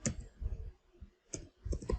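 Keystrokes on a computer keyboard as a web address is typed, a quick burst of clicks, a pause, then another short run of taps, close and fairly quiet.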